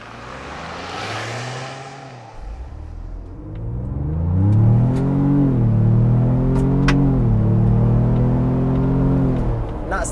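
A 2021 Ford Bronco engine revs up hard from idle and accelerates at full throttle in sport mode with traction control off, a loud, rising roar that holds strong with gear-like pitch shifts.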